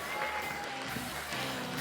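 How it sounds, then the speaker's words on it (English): A crowd at the 2020 Golden Shears junior woolhandling final applauds the finalists, producing a steady, moderately distant wash of clapping with faint voices underneath. "Give our finalists a round of applause, ladies and gentlemen."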